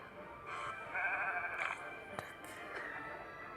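Sheep bleating in a game, several wavering bleats one after another over a steady low background, with a sharp click partway through.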